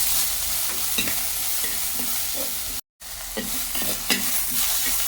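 Small shallots and green chillies sizzling in a pan, stirred with regular scraping strokes over a constant hiss at close range; the sound cuts out briefly midway, and no one speaks.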